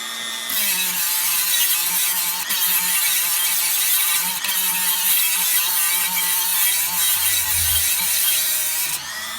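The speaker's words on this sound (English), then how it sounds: "you just keep sanding on it" Continuous loud abrasive grinding of a power sander working curb-rash gouges out of a car wheel, steady and close, starting abruptly and stopping just before the end.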